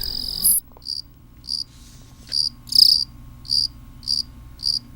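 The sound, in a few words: katydid long chirp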